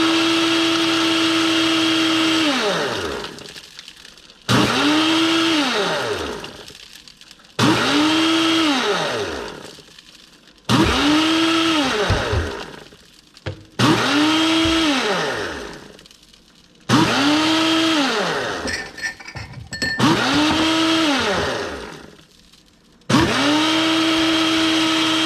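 A kitchen blender crushes ice into small pieces for a homemade frappe, running loud in about six bursts, each winding up fast and dropping away as it stops, with short quiet gaps between pulses.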